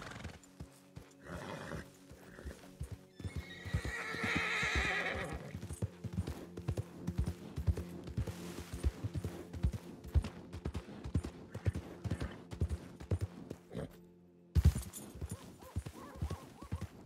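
A horse in the video game Red Dead Redemption 2 trots with rhythmic clip-clopping hooves that continue throughout, with a loud neigh near the start and another sharp burst near the end.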